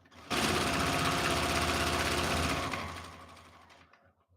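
A sewing machine runs in one continuous burst while stitching a short back stitch around the edge of a quilt, with a fast, steady mechanical whir close by that then winds down to quiet.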